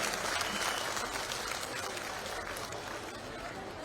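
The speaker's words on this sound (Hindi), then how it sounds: "जोरदार तालियां बजाकर आप लोग उनका अभिनंदन करें" A crowd at a beneficiaries' gathering claps loudly for minister Tulsiram Silawat, a thick continuous wall of applause that tapers slightly toward the end, with faint crowd murmur beneath.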